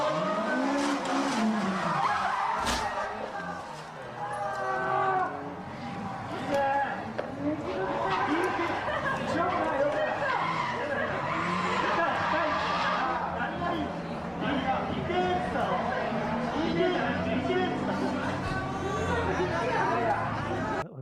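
A D1 drift car skids with squealing tires and crashes at a drift battle at Nakayama, the engine and tire noise running under continuous commentary talk.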